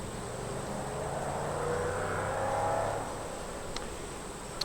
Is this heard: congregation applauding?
no